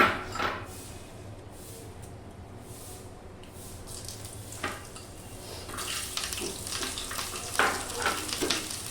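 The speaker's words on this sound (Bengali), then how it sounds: "এই তেলের মধ্যে শুকনো লঙ্কা আর রসুন দিয়ে দিচ্ছি।" Dried red chillies and garlic dropped into hot oil in a pan, a soft, crackling fry, quiet at first and then busier with brief spitting bursts toward the end.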